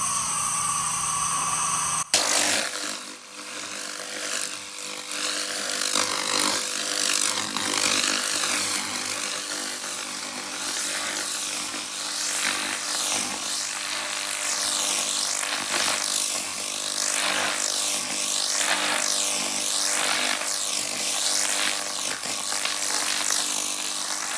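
A 2000W SFX laser rust removal machine stripping fifty years of rust and paint from metal, a harsh continuous hiss and crackle with rhythmic swells as the beam sweeps, starting abruptly after a brief hum.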